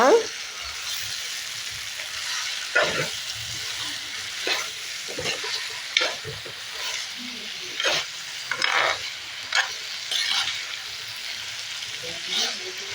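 Eggplant sautéing with rock salt in a pan for a Tamil-style kathirikai pachadi, giving a steady low sizzle broken by repeated scraping and stirring strokes of a spoon against the pan.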